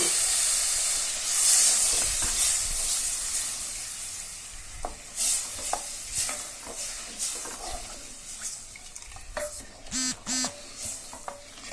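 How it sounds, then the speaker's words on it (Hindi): Water poured into a pan of roasted gram flour for Sindhi curry: loud hissing and sizzling burst out at first, then fade into softer bubbling with scattered stirring clinks and scrapes. "तो मैंने पानी डाल दिया इसमें।"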